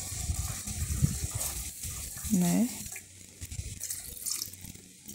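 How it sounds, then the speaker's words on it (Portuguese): Water poured into a pan of chicken stroganoff cooking on the stove, a soft running trickle with a brief gush midway, heard close and moderately loud alongside a short spoken word. "eu vou colocar mais um pouquinho de água para cozinhar mais essa"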